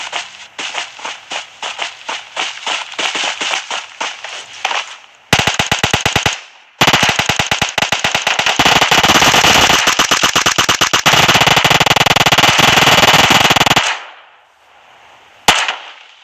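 Automatic gunfire in a PUBG Mobile match, loud rapid bursts with short gaps, then a long sustained stream of fire before it cuts off, followed by one last sharp shot.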